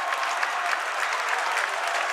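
A basketball crowd at a boys high school state tournament game bursts into dense, steady applause and cheering, loud and sustained throughout with no breaks.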